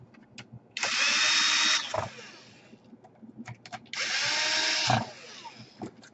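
A small electric screwdriver drives screws into the case of an HP 15 laptop in two whirring runs of about a second each, close up, with light clicks and handling noises between them.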